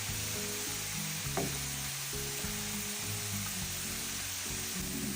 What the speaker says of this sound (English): when it stops sizzling like that means most of the moisture is gone